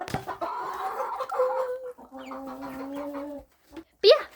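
Chickens and a rooster on a small farm cluck and call in short bursts, fairly close, with a sharper squawk near the end and brief quiet gaps between calls.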